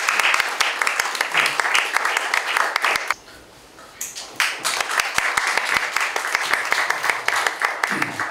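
A crowd applauds steadily for several seconds at a church seminary dean's inauguration service in Korea, with a brief lull in the middle before the clapping swells again.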